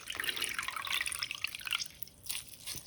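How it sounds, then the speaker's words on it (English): Wet nettle leaves are squeezed by hand, letting water trickle and drip into a container close by. The sound comes in short, uneven splashy bursts with no voices. "Now I want to get the nettles and I want to squeeze them with my hands."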